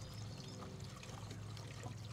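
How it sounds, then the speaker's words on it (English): Water gurgles and sucks out of a Hayward H400 FD pool heater after its seal is broken, a dense continuous rushing pour heard up close with no talk over it. "You can hear the water sucking out of here because I broke the seal"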